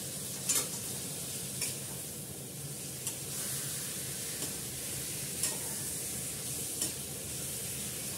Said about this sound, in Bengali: এবার মাংসটা দিয়ে দিলাম, ম্যারিনেট করা মাংসটা সব দিয়ে ম্যারিনেট করা আছে।